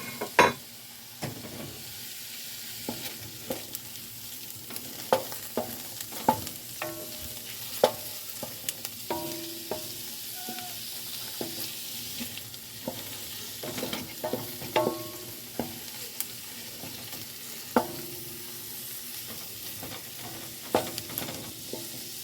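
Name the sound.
sausage browning with onions in a big noisy pot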